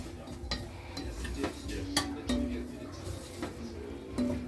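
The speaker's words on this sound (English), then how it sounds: "So we keep stirring for a while to allow our spices even" A spoon scrapes and clinks against a pot while minced beef with spices is stirred, giving irregular ticking knocks with a faint sizzle underneath and a voice talking over it.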